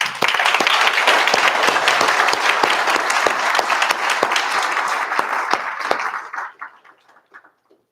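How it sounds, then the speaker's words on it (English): Applause from an audience at a Welcome Home Vietnam Veterans Day celebration, a dense, steady clapping that lasts several seconds and then dies away into a few scattered claps. "Another round of applause, please."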